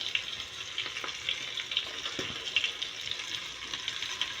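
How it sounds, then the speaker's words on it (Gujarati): Masala frying in a pan and being stirred for a stuffed eggplant curry, with a steady soft sizzle and a few light scraping strokes throughout, close by and without talk. "પછી મસાલાને હલાવી લઈશું"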